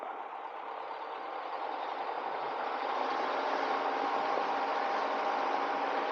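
A small training airplane's engine holds a steady, loud drone during its run-up at 1700 RPM, swelling slightly in the first second and then staying even, with no voices.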